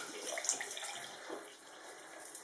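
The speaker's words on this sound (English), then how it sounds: "I just rinse it off on this section" A makeup brush is rinsed under a running tap with a Sigma spa cleaning glove, making a soft, steady hiss of water with faint splashes, fairly quiet and close.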